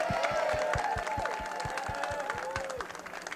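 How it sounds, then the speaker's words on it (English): Audience applause at a film festival awards ceremony, several distinct hand claps in a quick rhythm over a crowd murmur, while a voice or tonal sound glides in the foreground. "Let me give him an applause and wish him all the best,"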